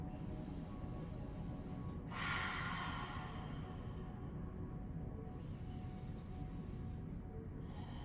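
Deep, slow breathing during a lymph-flow yoga session, with a long airy exhale rising near the two-second mark over steady low room noise and no talking.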